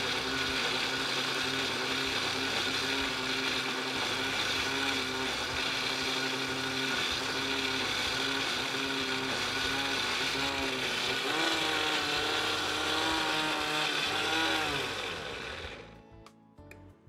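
A kitchen blender whirs steadily as it purees a carrot broth mixed with passion fruit juice into a cream, running loud and continuous for about fifteen seconds before spinning down to a stop.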